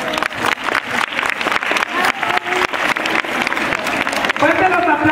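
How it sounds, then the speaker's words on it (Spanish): Audience applause following a children's poetry recital at a school declamation contest, lively clapping with distinct sharp claps standing out from the crowd, ending as a voice begins to speak. "Fuerte los aplausos para Cielo Celeste."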